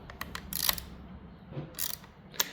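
Bolts on a two-cycle string trimmer being tightened just until snug make short bursts of quick metallic ratcheting clicks, close by, separated by brief pauses, with no one speaking.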